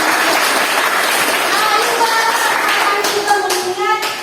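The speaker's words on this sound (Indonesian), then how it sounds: "Tepuk tangan buat" Classroom applause from a group of pupils, a dense burst of clapping close by that carries on steadily, with a few children's voices rising as it tapers.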